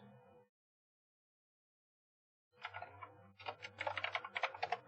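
Keystrokes on a computer keyboard type section names in Renoise music software, starting as a few separate taps and then quickening into a fast, close run of clicks after a short silence.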